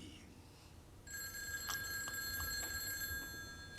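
An old-fashioned telephone bell rings with a steady metallic trill, fairly close, after a brief quiet moment with faint room noise.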